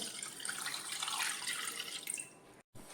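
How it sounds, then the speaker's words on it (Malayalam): Liquid pours steadily into a pan in a continuous hissing stream for a few seconds, then cuts off abruptly, while making wheat flour halwa. "പാൻ വെച്ചിട്ടുണ്ട് നമുക്കിതിലേക്ക് ഒഴിക്കാവേ"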